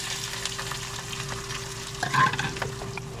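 Steady sizzling and crackling of potatoes frying in a pan after onion and garlic have browned, with a brief louder hiss and stir partway through.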